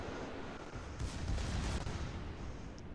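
Secondary guns on a warship in World of Warships fire in a dense rumbling barrage, booming continuously over a low roar of the battle.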